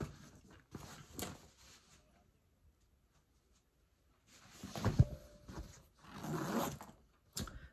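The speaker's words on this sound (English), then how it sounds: "Zippers just fine." A handbag zipper is pulled in a few quick scratchy bursts, with a short pause between, close by and fairly quiet.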